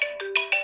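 A phone ringtone plays a repeating electronic melody in bright tonal bursts, about four notes in quick succession, loud and close with no talking.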